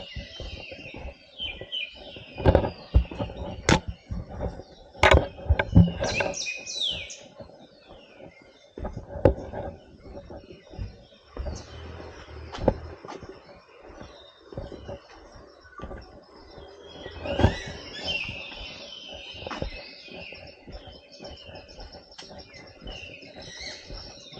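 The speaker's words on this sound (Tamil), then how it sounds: "பறவை சவுண்ட்லாம் அருமையாக இருக்குது." Many birds chirp and sing in bursts of bright, high trills near Abbey Falls in Coorg, some close and some farther off, over faint insect buzzing and scattered clicks.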